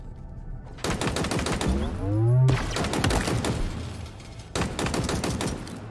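Rapid gunfire from a weapon in the video game Halo Infinite, three dense bursts of automatic shots separated by short gaps, with a brief tonal whoosh mid-clip, loud and close with no talking.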